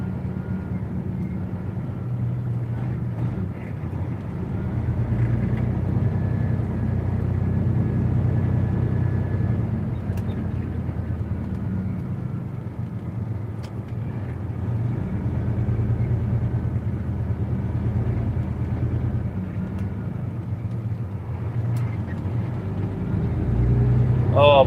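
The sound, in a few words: loaded truck engine in low range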